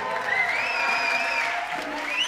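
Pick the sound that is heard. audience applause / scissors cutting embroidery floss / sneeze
audience applause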